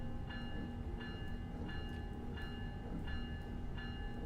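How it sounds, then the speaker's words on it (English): A locomotive bell in a train simulator game rings with regular clangs about every 0.7 seconds over a steady rumbling cab drone, with no talking. "we should probably turn this bell off."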